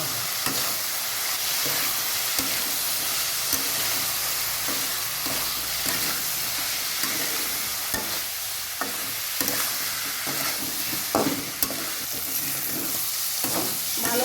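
Chili and coriander powder frying in a pan for a potato and tomato chorchori, with a steady sizzle and repeated scraping stirs of a spatula, close and continuous.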